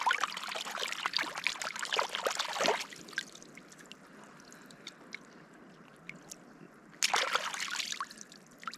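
Water poured over a squid being cleaned with sand on a beach while camping, a faint splashing pour at the start and again near the end, with quieter trickling in between.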